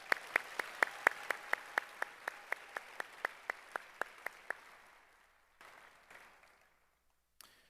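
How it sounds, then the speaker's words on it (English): A small group claps at a high school arts graduation ceremony, sharp distinct claps in a steady rhythm that fade out after a few seconds, followed by quiet room noise. "Can we give them a big round of applause,"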